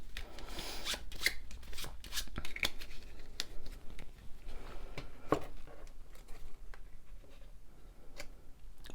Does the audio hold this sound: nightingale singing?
no